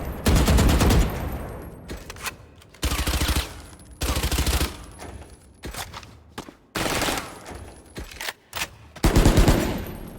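Gunfire in the video game Valorant, heard as several short automatic bursts separated by pauses, loud and close, with punchy low-end thumps and a faint high tone between bursts.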